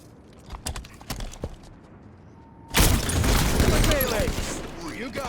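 Gunfire in the video game Halo 5 Guardians: a few scattered sharp shots, then a loud, dense burst of rapid fire and explosive rattling that continues to the end, with a faint voice in the background.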